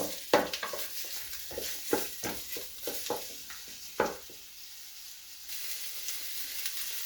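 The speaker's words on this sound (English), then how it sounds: "While the onions are frying" Onions sizzle steadily in a pan, broken up by a series of sharp scraping stirs that fade into a quieter, even sizzle.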